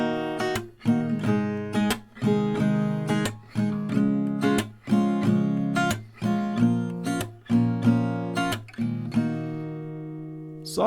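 Acoustic guitar strummed in a steady down-up pattern, each cycle punctuated by a sharp hand clap, close and rhythmic, ending on a ringing chord.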